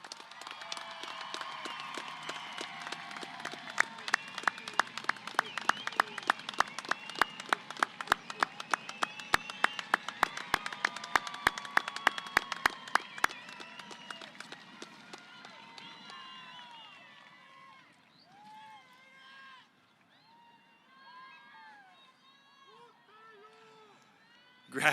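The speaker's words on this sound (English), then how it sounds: "Let's give our graduates a round of applause" A graduation ceremony audience applauds the high school graduates with a dense burst of clapping and some cheering that gradually thins out and fades, and a speaker's voice is heard during the quieter stretch toward the end.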